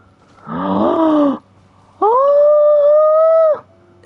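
A stray dog in the Genshin Impact outskirts lets out two long howls, the first wavering and the second sustained and steady, each standing alone with a short pause between.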